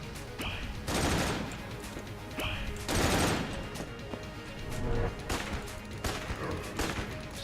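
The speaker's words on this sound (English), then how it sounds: "Just keep opening fire on it with the Winchester." A Winchester rifle fires at a boss in the video game Enter the Gungeon, with bursts of gunshots and heavy crashing impacts repeating about every second or two under a constant din of game noise.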